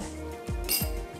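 A round spoon clinks against a pot while stirring kheer, giving two or three quick, close metallic taps over a low kitchen hum.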